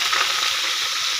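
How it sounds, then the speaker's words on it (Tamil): Steady, dense crackling sizzle of mustard seeds popping in hot oil for tempering, close and continuous with no voices. "கடுகு போட்டுக்கிறோம் தாளிக்கிறதுக்கு"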